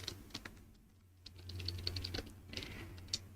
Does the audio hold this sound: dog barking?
no